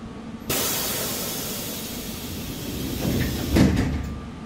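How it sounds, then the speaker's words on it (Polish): Doors on an EN57 electric multiple unit in the train simulator SimRail slide shut by themselves, with a long pneumatic hiss starting abruptly and a louder thud-and-hiss near the end, heard alone. "Czemu te drzwi się same zamykają?"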